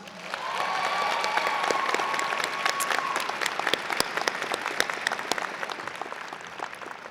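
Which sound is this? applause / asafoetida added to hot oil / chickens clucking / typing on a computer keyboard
applause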